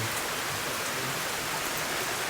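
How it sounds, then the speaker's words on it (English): Steady rain falls outdoors at a chicken homestead, a dense, even hiss of drops on surfaces that fills the whole clip with no other sounds or voices. "Man, it's just raining."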